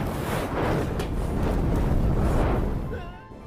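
A man sets himself on fire in a house cellar after being bitten, with a loud, sustained roaring whoosh of flames and rumbling bursts that fade toward the end.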